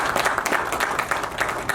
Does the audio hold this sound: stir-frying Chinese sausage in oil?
no